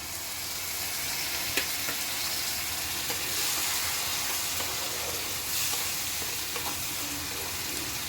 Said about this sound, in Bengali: এখন আমি টমেটো আর কাজুর পেস্টটা দিয়ে দিলাম